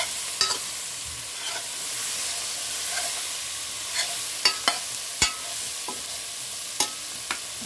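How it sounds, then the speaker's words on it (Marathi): Pumpkin, eggplant slices and drumstick pods sautéing in a pan: a steady soft sizzle with scattered sharp clicks and scrapes of stirring, moderately close and no one talking. "सगळ्यात शेवटी आपल्याला शेवग्याची शेंग टाकून द्यायची आहे। हे पण छानसं आपण परतून घेऊया।"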